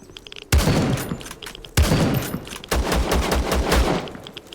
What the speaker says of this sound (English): Is he shooting at me or shooting at the other guy?